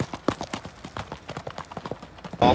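A horse's hooves clip-clop in a quick, steady rhythm of sharp, close knocks, with a burst of louder noise at the very end.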